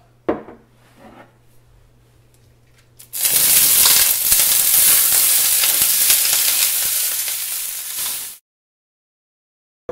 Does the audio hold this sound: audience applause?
no